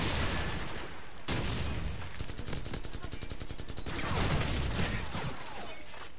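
Rapid automatic gunfire in Call of Duty 4 rattles in dense, sustained bursts with brief gaps and booming reports, loud and close throughout.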